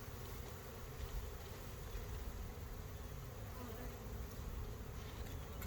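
A dense, steady buzz of many honey bees fills the scene, constant and close, with no pauses or voices.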